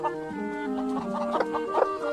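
A Japanese silky bantam hen, a small chicken, gives a run of close, loud clucking with wavering tonal calls that rise and fall in a continuous chatter.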